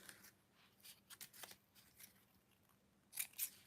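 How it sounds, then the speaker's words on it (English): Scissors trimming the tails of a ribbon on a craft notebook holder, a series of quiet close snips and crisp cuts in short bursts, with louder snips near the end. "I'm going to trim up the tails"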